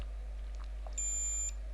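A multimeter gives a steady continuity-test beep while probing a mobile phone's button, a single clear tone of about half a second against a low background hum.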